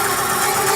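Electric hum and whir of a Kraken 12000W fat bike motor under throttle at about 94 volts, a brief, loud, steady drone with a tonal whine throughout.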